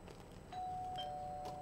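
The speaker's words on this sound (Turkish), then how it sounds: "Ve duyduk zilin sesini abi." A doorbell in the game Streamer Life Simulator rings with a sustained electronic tone and a faint higher chime, clear and alone over low background hum.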